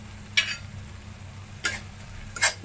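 Spice paste sautéed in oil with salt and jaggery in a pan, a quiet steady sizzle broken by three sharp spatula scrapes against the pan, close up and without voices.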